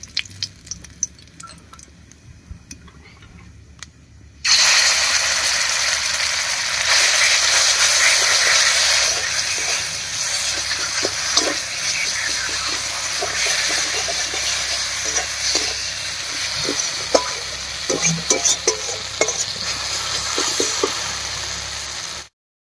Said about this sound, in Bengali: তেলের মধ্যে দিয়ে দিচ্ছি 2টো শুকনো লঙ্কা, দেবো 1/2 চামচ মতো কালো জিরা